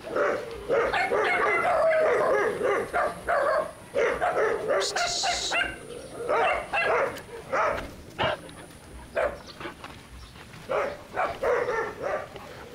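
Several dogs out on a leashed walk bark, yip and whimper in rapid, overlapping bursts, loud and close, with brief pauses between flurries.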